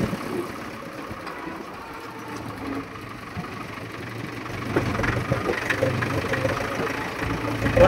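A tractor engine chugs steadily throughout a ride, a rough mid-range running drone with rattling and jostling noise, slightly louder toward the end.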